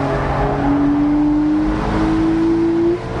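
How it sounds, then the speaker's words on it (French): A Porsche Boxster 2.5 accelerating uphill on the Nordschleife, loud steady engine drone heard from inside the car, with the engine note climbing through two gears. "avec la Porsche, tant que vous appuyez, ça pousse"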